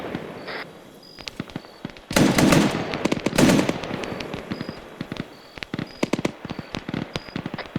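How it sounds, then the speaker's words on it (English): Video game combat with bursts of rapid gunfire and two loud, sustained explosions from RPG blasts, followed by scattered sharp shots and a repeating electronic tone. "Had like 3 RPGs just barely over my head."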